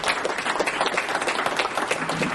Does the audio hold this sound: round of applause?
yes